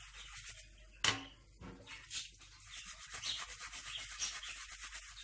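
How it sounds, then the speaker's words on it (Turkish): Steel wool scrubbing across a glass-ceramic cooktop during kitchen cleaning, a steady dense rasping that swells and fades with each stroke, fairly close, with one sharp knock early on and no talk. "Ben şimdi hepsini bir güzel telliyorum böyle."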